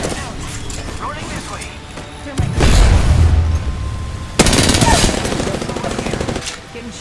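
Rapid bursts of video game gunfire crackle in short volleys with a heavier boom midway, close and loud, under players' voices calling out.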